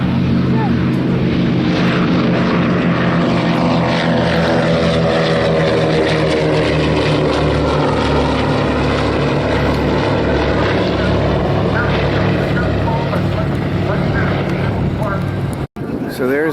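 Yankee Air Museum C-47 twin-propeller airplane passing at an air show, a loud continuous propeller engine drone with a steady then shifting pitch as it flies by, people talking faintly underneath.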